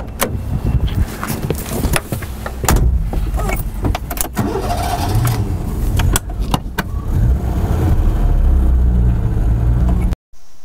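A 1975-era Vauxhall Chevette, a rebadged Opel Kadett, runs with a steady close engine note and several sharp mechanical clunks and knocks layered over the continuous rumble.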